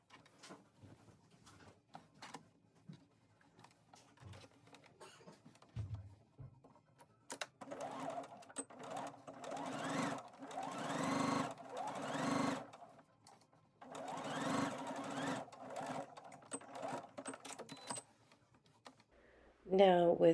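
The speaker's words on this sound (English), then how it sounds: "I pressed the pocket seam out towards the pocket, and now I'm adding a top stitch." A home sewing machine top-stitches a pocket seam on a dress, running in two long, steady bursts with short pauses, close and moderately loud, with a voice talking over it.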